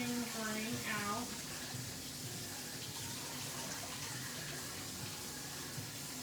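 Water runs and gurgles steadily in a kitchen sink as vinegar-rinsed vegetables drain, a continuous watery wash with a person speaking in the background.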